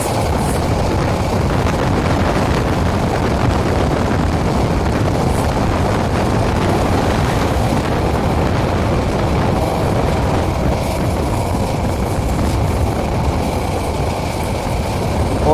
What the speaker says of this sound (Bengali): তুফানি গতিতে যমুনা রেল সেতু ত্যাগ করলো আন্তনগর বুড়িমারি এক্সপ্রেস।